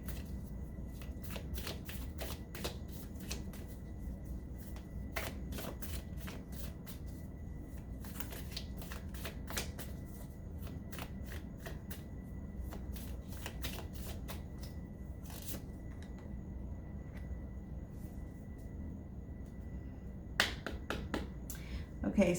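Tarot cards are shuffled by hand, crisp flicking riffles repeating close up throughout, with soft speech faintly underneath.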